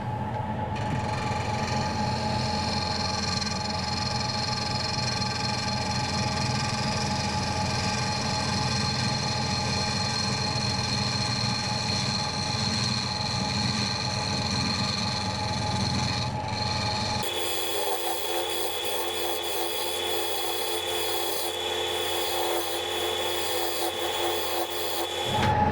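A wood lathe turns a parquet bowl at higher speed, a steady whirring hum with a faint rasp of wood, constant and fairly quiet, shifting to a thinner, brighter tone partway through.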